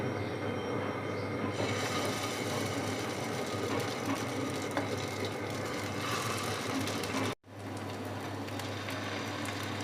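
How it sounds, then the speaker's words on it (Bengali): Chicken lollipops for a Thai-style recipe frying in hot oil, a loud, dense, continuous sizzle that drops out for a moment near the end and then returns just as strong. "তেলটা গরম হয়ে গিয়েছে, আমি একটা একটা করে ললি দিয়ে দিচ্ছি"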